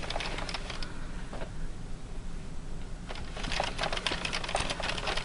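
An Addi knitting machine is cranked by hand through several rows of waste yarn, giving a fast, steady clicking patter of needles and gears that grows busier toward the end.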